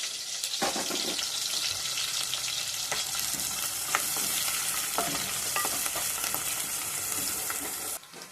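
Sliced onions and green chilies sizzle loudly in a hot pan of oil for an Andhra-style mutton dry curry, a steady broadband frying hiss with repeated scraping stir strokes, close and continuous, with no talking.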